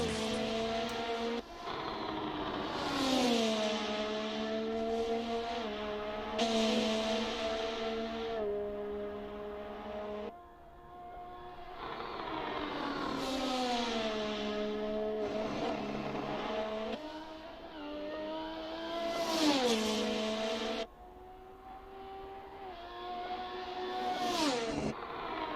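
Red Bull Formula 1 car engine in a racing video game mod, screaming high-revving note rising through gears with repeated upshifts and sharp drops, loud and continuous throughout.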